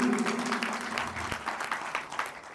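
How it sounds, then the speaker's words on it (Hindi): Loud applause from a motivational seminar audience, clapping for themselves; dense, continuous clapping with a faint tone of background music underneath, easing slightly toward the end. "एक बार जोरदार तालियां अपने आप के लिए।"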